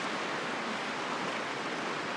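A river flows past an old 1920 house under renovation: a steady, even broadband rush of water that holds unchanged throughout, moderately loud with no voices.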